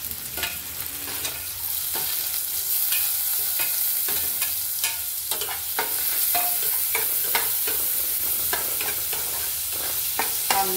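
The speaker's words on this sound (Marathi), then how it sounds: "परतून घेऊ कांदा।" Chopped onion and cumin seeds sizzle in hot oil in a pan as a spoon stirs and scrapes them, with steady frying crackle and repeated stirring clicks, close and fairly loud throughout.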